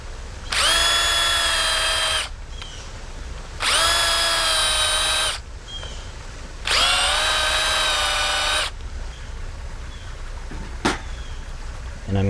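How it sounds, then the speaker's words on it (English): A power drill with a 3/8 bit boring a hole in a wooden knife handle whines loudly in three bursts of about two seconds each, separated by short pauses with quieter handling noise in between. "I will use a drill with a 3/8 bit and drill out a hole"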